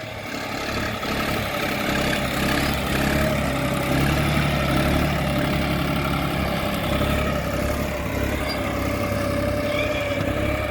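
A tractor engine runs close by, a loud, steady, low rumbling drone that holds constant throughout without any talking.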